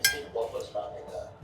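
Small plates clink and clatter as they are set down on a table in a Punjabi restaurant, a few light knocks of crockery and cutlery, close and fairly quiet, with faint voices in the room.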